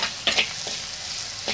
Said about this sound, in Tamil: ஆட் பண்ணிவிட்டு நல்லா வதக்கி விடுங்க.